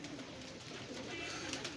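Pigeons cooing faintly and continuously in a low murmur while a boy catches them, with steady background noise and no clear voices.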